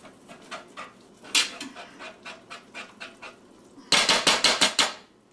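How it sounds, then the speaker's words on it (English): Peanut butter fudge mixture with vanilla being stirred by hand in a pot, giving a run of rhythmic scraping, knocking strokes that grow louder and faster near the end. "Let me start mixing."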